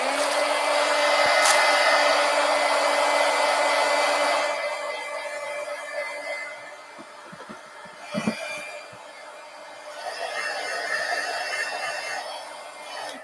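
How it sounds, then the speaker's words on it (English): A heat gun blows hot air over a glued collage page in a magazine journal, a loud steady rushing hiss for the first four seconds, then easing back to a quieter airflow broken by a few handling taps, with no one speaking. "Hit this with the heat gun"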